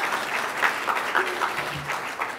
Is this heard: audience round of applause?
yes